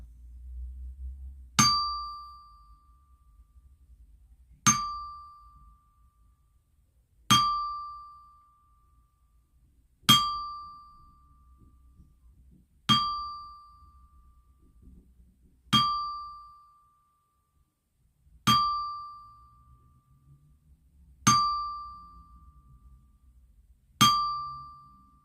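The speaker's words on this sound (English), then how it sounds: "let's do a 10-bell salute for the victims affected in Baltimore" A ten-bell salute for the Baltimore bridge victims: a single bell struck nine or ten times at slow, even intervals, each clear metallic ding ringing out and decaying before the next, alone with no talk.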